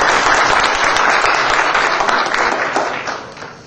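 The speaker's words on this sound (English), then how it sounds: "Give yourselves a round of applause" A crowd at a 2008 Chicago election forum held by a Muslim community task force applauds loudly and steadily, a dense wash of clapping that fades near the end.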